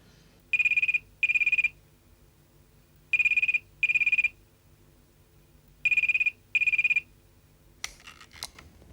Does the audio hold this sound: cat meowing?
no